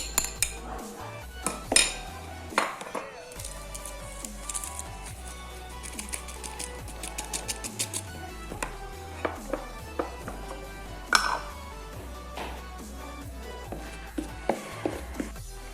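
Cheesecake ingredients, cocoa, baking powder and salt among them, stirred together in a bowl with a utensil, giving a steady run of close clinks and scrapes against the dish, with no one talking.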